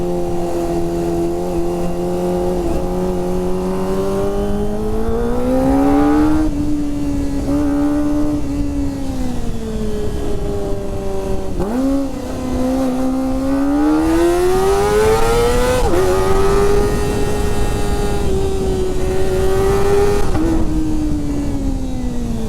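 A hot Kawasaki ZX25R four-cylinder motorcycle engine runs and revs after overheating, with a loud, steady high-pitched whine that repeatedly rises and falls as the throttle is blipped.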